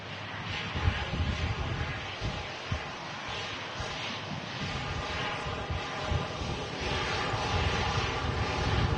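A TUI Dreamliner being pushed back at Manchester Airport gives a steady jet engine rumble and whine, fairly distant and moderate in level, with slight swells and light wind buffeting and no talk.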